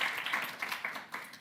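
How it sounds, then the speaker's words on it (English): Applause for a panel at a conference session on youth skills and development in Latin America, a steady crowd clapping that swells and dips throughout, moderately loud and close. "Let's have a round of applause for the panel."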